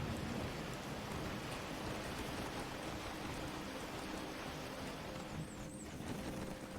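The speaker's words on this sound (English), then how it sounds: "Ah, the rain." Steady, even rain hisses throughout a scene in the survival game Cataclysm DDA, a dense wash of falling drops with no voices over it.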